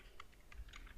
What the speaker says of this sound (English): simply you can type your text or remove this text and retype